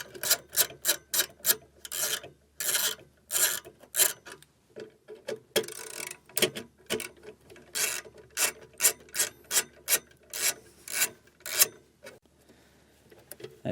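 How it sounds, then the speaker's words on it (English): A 5/32 Allen key loosening the lugs on a Progressive Dynamics replacement section in a 2012 Casita Spirit trailer, heard as a steady run of close, rhythmic ratcheting clicks and metal rasps with brief pauses, without talk. "I'm going to be using a 5/32 Allen key, and we'll just loosen those up."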